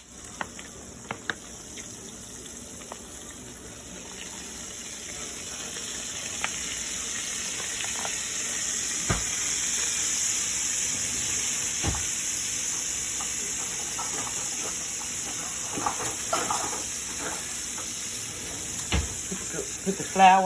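Pork chop grease sizzles steadily in a pan as gravy is started, a broad continuous frying hiss with occasional clicks and utensil taps, close and fairly even throughout.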